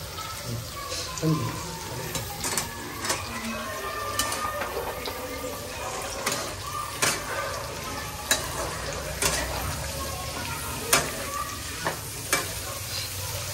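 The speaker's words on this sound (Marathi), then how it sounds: "पूर्ण कांदा खरपूस होईपर्यंत आपल्याला छान आता भाजून घ्यायचा आहे." Plenty of onion frying in a pan for a home-style hotel recipe: a steady sizzle with sharp, irregular scraping clicks of a spoon stirring, and faint speech in the background.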